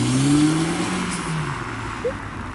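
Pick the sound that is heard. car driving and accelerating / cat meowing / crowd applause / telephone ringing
car driving and accelerating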